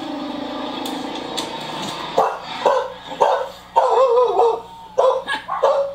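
A dog barks sharply several times, loud and close, in uneven bursts with short gaps between them, over a low background hum.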